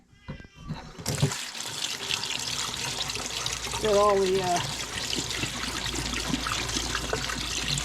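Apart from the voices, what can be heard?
rinsing seaweed under running tap water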